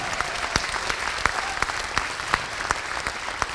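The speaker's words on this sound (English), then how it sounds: "a huge round of applause for all of our sponsors that you just saw on the reel" Clapping from a theatre audience on a 30th anniversary opening night, a moderate steady patter with a few sharper individual claps standing out, heard at some distance.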